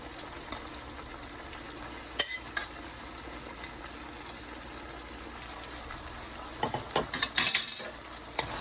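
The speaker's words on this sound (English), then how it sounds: "So I'm gonna add in my pasta in my shrimp. I'm gonna mix it in there." Pasta is stirred into garlic butter shrimp in a pan over a faint, steady sizzle, with a few scattered utensil clinks and a brief cluster of scraping and clattering near the end.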